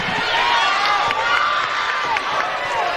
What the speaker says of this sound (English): The crowd is into it.